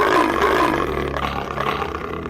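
A cartoon donkey lets out a loud, lion-like roar, a rough, sustained growl that fills the whole moment with no other voices, easing off slightly toward the end.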